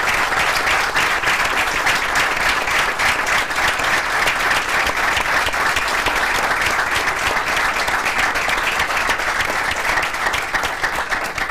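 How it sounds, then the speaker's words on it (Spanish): Steady, sustained applause from an assembled crowd opens a Juntos por Entre Ríos political rally, dense clapping holding at an even level throughout with no speech over it. "Con el aplauso de todos los integrantes, vamos a dar por inicio este acto"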